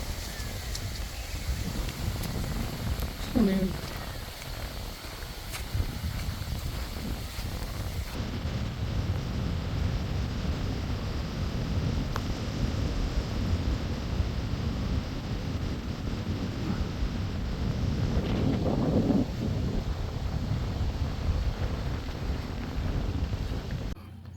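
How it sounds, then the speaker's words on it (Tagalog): Strong wind at a campsite in Lipa, Batangas buffets and roars across the microphone in a continuous rushing noise, gusting louder midway, with no voices. "biglang lumakas yung hangin"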